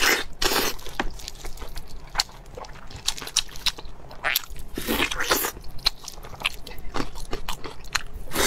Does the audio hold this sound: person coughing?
no